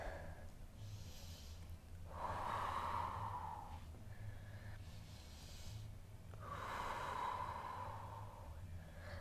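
Slow, deep breaths during a beginners' yoga flow come as two long drawn inhale-exhale cycles, airy and close, with quiet gaps between them and no talking.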